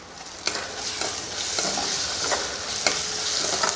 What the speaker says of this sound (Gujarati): ડુંગળી પણ તેલમાં એકદમ સરસ સાંતળી લેશું